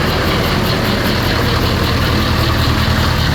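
A John Deere 2020 tractor engine idles steadily close by, a continuous low rumble with no break and no voices.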